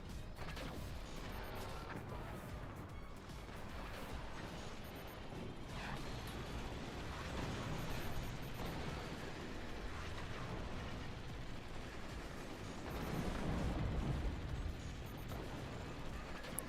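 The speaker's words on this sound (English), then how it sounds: "The mortars, they just keep landing. They keep dealing damage." Mortar and howitzer fire in the Forts RTS game, a dense, steady rumble of distant launches and impacts with mechanical clatter, swelling louder around the middle and near the end.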